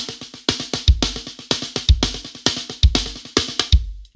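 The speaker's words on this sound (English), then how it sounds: "You can take away the last note of the single paradiddle that's left and put your kick there." A drum pattern of quick rolling single paradiddle snare strokes, the last stroke of each group replaced by a deep bass drum kick, repeating steadily four times.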